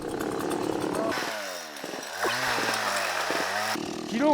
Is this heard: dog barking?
no